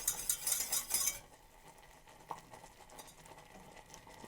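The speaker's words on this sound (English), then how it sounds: "You want to kind of keep stirring so it doesn't burn." A thickening sauce stirred in a pot with a utensil: a burst of bright scraping and clinking at first, then softer intermittent scrapes and taps against the pot under a quiet background.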